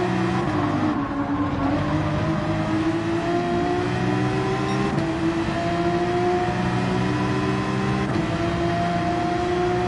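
Race car engine in Gran Turismo 7 at Spa, revving steadily upward with rising pitch and a gear shift partway through, loud and continuous with no talk.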